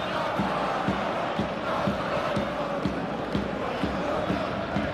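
A stadium crowd in an eFootball 24 video game match between Paris Saint-Germain and Real Madrid gives a steady, dense roar of cheering, with a faint recurring thump underneath.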